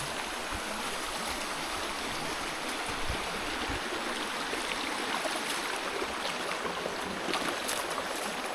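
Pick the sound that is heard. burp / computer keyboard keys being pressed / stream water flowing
stream water flowing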